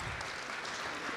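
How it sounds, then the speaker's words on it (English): A round of applause from the audience at a citizens' assembly, steady dense clapping throughout with no pauses. "A round of applause"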